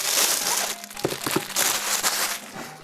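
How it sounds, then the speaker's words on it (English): Plastic wrapping crinkles and crumples as it is pulled off a Skull & Co Switch carrying case, a few sharp crackles in the middle amid softer rustling, close and clear. "So let's pull off our plastic here somewhere."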